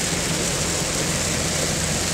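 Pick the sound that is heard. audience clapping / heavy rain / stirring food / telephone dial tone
heavy rain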